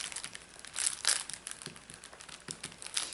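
A plastic bag crinkles and rustles in the hands, with short, uneven crackling bursts close by and no talk.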